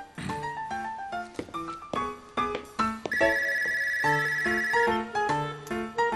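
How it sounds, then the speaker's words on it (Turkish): A telephone rings with a melodic electronic ringtone, its bright tones repeating steadily and fairly loudly for several seconds with no one speaking over it. "Hadi telefona bak."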